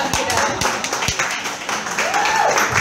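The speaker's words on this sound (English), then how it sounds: "Can we get a round of applause for them for coming out?" Diners at a Mexican restaurant comedy show give a round of applause, scattered clapping and a few sharp claps blending with crowd murmur and voices, moderately loud and brief.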